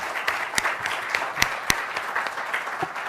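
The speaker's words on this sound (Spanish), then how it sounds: "yo les quiero dar un aplauso realmente" An audience at an entrepreneurship talk applauds, a sustained patter of many hands at moderate distance with a few sharper individual claps standing out.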